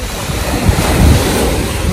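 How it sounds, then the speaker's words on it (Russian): Wind-driven waves on a snowy bay with rocky shore roar as a dense, loud wash, broken by gusts of wind buffeting the microphone, with no voices. "Волны как на море."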